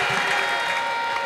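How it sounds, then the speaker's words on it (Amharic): A church congregation claps and ululates together, a dense, continuous wash of applause with high trilling voices mixed in, loud and sustained across the short moment. "ለጌታ ከፍ ያለ እልልታና ጭብጨባ ስጡ"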